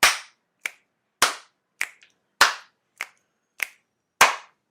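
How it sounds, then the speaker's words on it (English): Rhythmic hand slaps and finger snaps ring out as eight sharp, dry hits, evenly spaced and close by, each decaying quickly into silence. "It's slaps and snaps."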